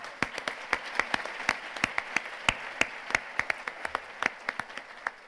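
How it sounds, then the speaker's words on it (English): An audience gives a round of applause at a community breakfast, a steady patter of many hands clapping with a few sharp, close claps standing out over the room. "can we give her a round of applause?"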